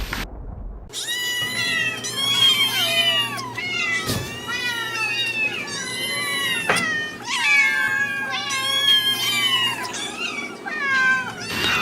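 Stray cats meow and yowl over and over, loud and close, with overlapping drawn-out cries and brief pauses between them.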